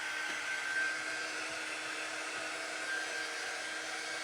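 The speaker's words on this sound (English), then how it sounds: "let's just hit it with the dryer just a little bit so that I don't smudge" A hair dryer blows on freshly painted artwork in a steady close whooshing drone that holds even for several seconds, with no voices.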